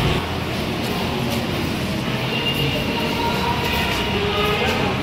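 A train rumbles into a station in the Konkan region, a steady loud wash of wheel and carriage noise with faint squeals and clatter, with muffled voices in the background.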